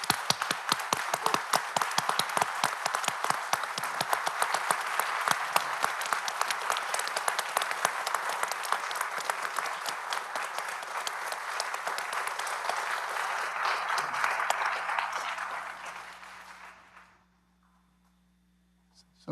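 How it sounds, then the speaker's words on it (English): A long round of applause from a city council meeting audience, loud, dense clapping sustained for about fifteen seconds before tapering off into near silence. "let's give them a big round of applause"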